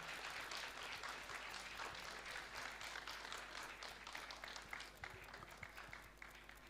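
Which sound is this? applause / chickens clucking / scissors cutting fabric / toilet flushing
applause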